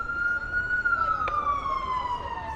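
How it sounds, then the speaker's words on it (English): New York Presbyterian ambulance siren on a Chinatown street in Manhattan, a loud steady wailing tone slowly rising then falling over traffic rumble, with a brief sharp click midway. "Looks like there's a ambulance coming down. New York Presbyterian."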